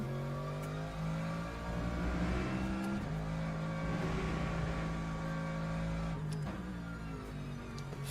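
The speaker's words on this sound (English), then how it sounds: "Let's pause that so you can just hear the car." A racing car engine in the video game Le Mans Ultimate drones steadily with shifting pitch, revving and easing across the clip, loud and close with no talking.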